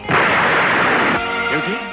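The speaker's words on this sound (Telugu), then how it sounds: "sugar factory godown bomb పేలి ముక్కలైపోయింది" A loud, roaring bomb blast at a sugar factory warehouse bursts out and rumbles for about a second, then gives way to quieter tonal sounds.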